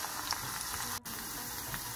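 A tadka of green chilli, cumin, kasuri methi and dried peppers sizzles loudly and steadily in hot oil, a dense crackling hiss with one momentary break partway through.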